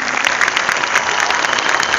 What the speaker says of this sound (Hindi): big round of applause to you and your teams